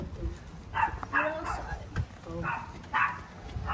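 A small dog yips, barks and whimpers in short bursts at close range, with people talking around it in a home setting.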